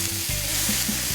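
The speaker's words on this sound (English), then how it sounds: "Oh, that sizzle is beautiful." Bacon sizzles loudly in a frying pan with a continuous close crackle of hot fat and a few light scraping stirs, and no one speaks.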